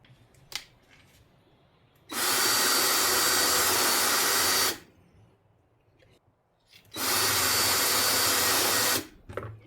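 A power drill drives a self-tapping screw into a plastic Power Wheels ride-on toy wheel. Two long, loud, steady whirring bursts of a couple of seconds each are separated by quiet pauses with small clicks and handling sounds.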